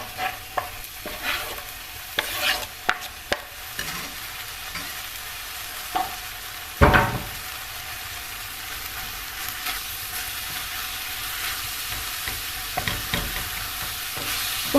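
Chopped onions sizzle and fry in a pan with a small amount of finely diced pepper, a steady hiss broken by occasional scraping stirs and utensil clinks, no voices.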